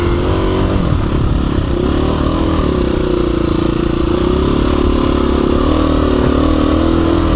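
KTM 350 EXC-F dirt bike on a trail ride, its engine loud and close throughout, holding a steady throttle with slight rises and dips in pitch and a rough rattling tone.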